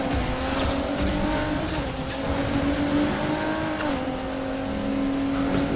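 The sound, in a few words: race car engine in Need for Speed Heat video game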